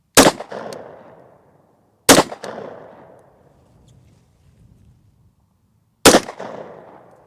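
Three sharp, loud gunshots are fired at the side of a ballistic helmet on a test range, each a hard crack with a decaying ring, spaced unevenly with silence between.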